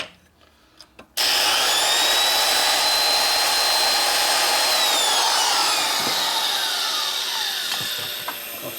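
A power grinder works on the cylinder head of a 1977 Harley-Davidson XLCR 1000cc Sportster ironhead engine, starting abruptly after a few faint taps, then a loud, steady whine that shifts pitch and eases off toward the end.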